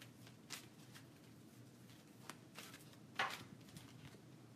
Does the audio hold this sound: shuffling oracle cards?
yes